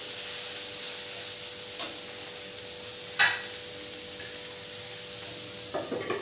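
Food fries in a pan with a soft continuous sizzle, broken by a few faint scrapes and one sharper clack of a utensil against the pan, close and without talk.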